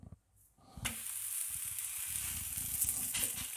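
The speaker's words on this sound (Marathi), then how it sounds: "हे पण लसणाचं थालीपीठ तव्यावर लावलं आहे" Garlic thalipeeth flatbread sizzling on a hot griddle: after a brief quiet moment a steady, bright frying hiss sets in and holds close up, with faint soft crackles underneath.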